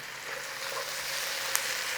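Garlic ginger paste frying in a pan for palak paneer, a close, even sizzle with a brief tap partway through.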